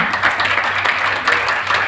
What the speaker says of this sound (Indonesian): Kasih tepuk tangan yang satu itu dulu